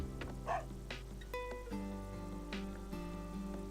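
In the video game THE DOGE Island, a dog gives a few short barks and yips over sustained tonal game music, sounding faint and spaced out across the stretch.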